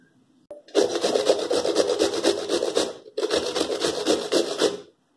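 Ridge gourd rubbed against a hand grater for thalipeeth, a steady rasping scrape in two long continuous bursts, close and fairly loud with a brief pause between them.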